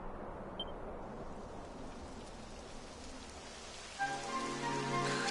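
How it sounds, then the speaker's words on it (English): Steady rainfall in Dragon Quest XI hissing softly, growing louder near the end as a low tonal hum joins in. "Typical. It would have to go and start raining, wouldn't it?"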